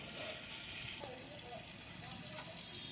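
Raw mango pieces simmering under a lid in a pot for a sweet, sour and spicy pickle, giving a steady low hiss and bubbling throughout, faint and close.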